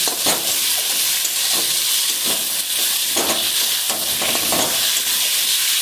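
A soybean mixture with spices sizzles loudly and steadily as it sautés and fries in a pan, with a dense, unbroken hiss and occasional stirring scrapes, heard close up.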